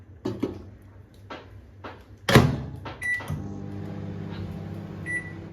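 A microwave oven set to bake an Oreo cake: a few sharp clunks of the door and handling come first, then a couple of short beeps and a steady low running hum, with no speech.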